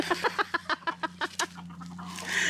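Chickens clucking close by in a quick, steady run of short clucks that fades into outdoor noise.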